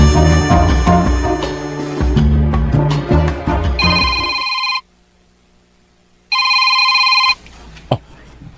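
A phone rings with an incoming call from Chris, with two loud bursts of a bright electronic ringtone separated by a silent gap, heard after a stretch of music.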